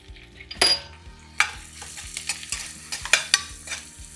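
Onions fry for a one-pot pulao while a spoon stirs and scrapes the pan in repeated bursts over a continuous close sizzle.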